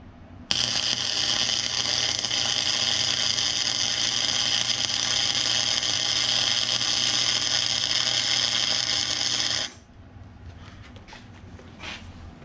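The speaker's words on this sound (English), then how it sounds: "I'll tack it again and we'll be done with this piece for now." Welding on a steel rear bumper for a Jeep XJ produces a loud, steady crackling hiss for about nine seconds before cutting off abruptly, followed by faint shop noise and no talking.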